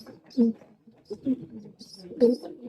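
Soft, low pigeon coos in a few short bursts, with brief higher chirps between them, fairly close and moderately quiet.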